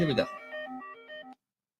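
A telephone for a call-in morning radio show chimes in a short electronic tone sequence just after a quick burst of voice, then cuts off into silence.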